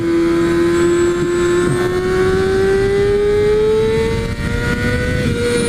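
A Kawasaki Ninja ZX6R sport motorcycle accelerates hard, its loud engine note climbing steadily and continuously close by, with no talk.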